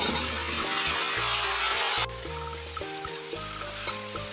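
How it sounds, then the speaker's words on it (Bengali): Vegetables for a Bengali pui shak chorchori with fish head hit a hot pan, giving a loud, hissing sizzle that suddenly drops to a quieter fry with light clinks and stirring. "সবজিগুলো ঢেলে দিচ্ছি"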